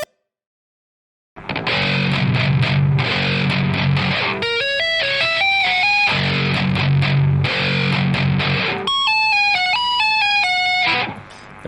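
Slow distorted electric guitar alternating heavy chugged low riffs with high diminished arpeggios and dissonant tapped notes, each phrase ringing clearly, played alone and loud.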